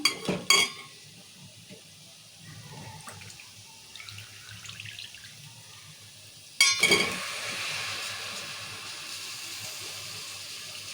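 Mutton pieces being stirred into a spiced curry base in a pan, giving a steady close sizzle with scraping and clinking of the spoon against the pan, louder after a sharp clatter midway.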